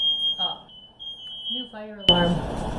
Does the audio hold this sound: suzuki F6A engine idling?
no